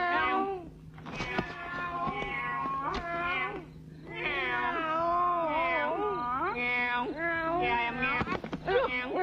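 A person imitates a cat, producing a long run of close, loud meows in varied pitches, with a second voice joining in so the meowing sounds like a duet during a comedy scene.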